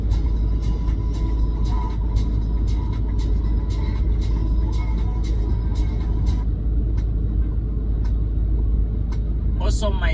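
A dropside superlink truck on the road in South Africa, heard from the cab: a steady low engine and road rumble runs throughout, with light rhythmic ticking on top and a short, sharper rattle near the end.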